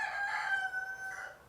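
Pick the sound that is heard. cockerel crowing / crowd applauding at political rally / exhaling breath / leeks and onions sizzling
cockerel crowing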